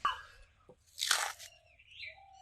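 Crispy fried sabudana papad crunches in a couple of short, sharp, brittle bites up close, with quiet gaps between them.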